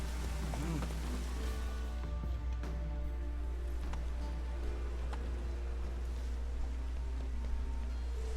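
Steady rain hisses continuously in The Witcher 3: Wild Hunt, with a deep rumbling hum and faint scattered clicks and tones underneath.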